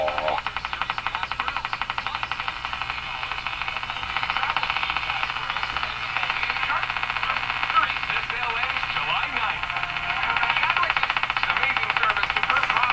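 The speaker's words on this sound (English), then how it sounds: "It starts up slow and builds up speed. It's inconsistent this ticking noise" A steady, rapid ticking with a mechanical, engine-like rhythm from a Northern Electric Baby Champ tube radio runs throughout over a constant hum, fairly loud and unchanging.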